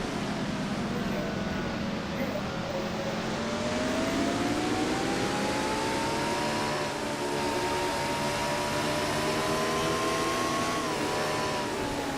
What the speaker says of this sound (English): She'll put that truck down in the second gear through turn number 2.